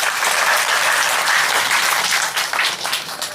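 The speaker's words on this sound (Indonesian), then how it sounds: "Kita tepuk tangan dulu dong buat Pak Wayan." Audience applauding for Pak Wayan at a talk, loud continuous clapping from a crowd of many hands, close and sustained, tapering slightly at the end.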